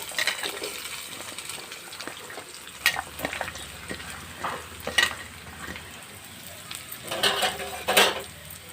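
Cumin, mustard seeds and cut green chillies frying in a pan, a soft sizzle beneath scattered spatula scrapes and small popping ticks, with louder clinks near the end and no talk.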